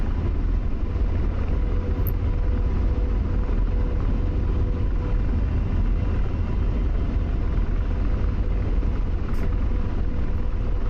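AH-64 Apache helicopter flying in the DCS combat flight simulator, a steady, loud, continuous rotor and turbine drone with rumbling low end, unchanging throughout and without talk.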